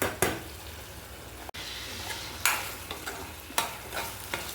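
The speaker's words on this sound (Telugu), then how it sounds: "మధ్య మధ్యలో ఇలా కలుపుకుంటూ ఉండాలండి." Mutton liver fries in a pan under a constant sizzle while a utensil stirs and scrapes it in sharp, irregular strokes, about five distinct scrapes with no talking.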